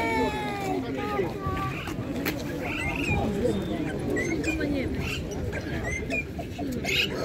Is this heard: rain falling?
no